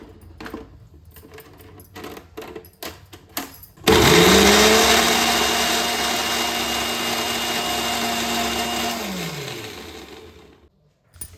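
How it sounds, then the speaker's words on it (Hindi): After a few clinks and taps, a mixer grinder grinding onion masala whirs loudly for about five seconds at a steady pitch, then winds down and stops. "अब इसको मिक्सी में पीस लेते हैं"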